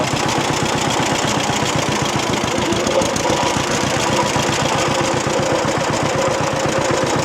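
A John Deere B tractor's old engine runs steadily and loudly up close, its low two-cylinder beat thumping in a fast, even rhythm with no talk over it.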